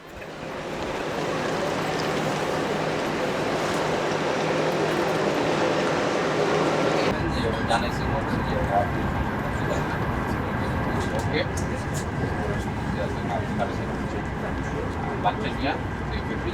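Inside a moving train headed for Naples, a loud steady rumble and rush of wheels and wind fills the carriage, with faint ticks and a shift in tone partway through.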